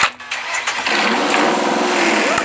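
Motorcycle engine in a Minecraft game cranks and catches, then settles into a steady mid-pitched idle rumble, close and fairly loud, with no talking.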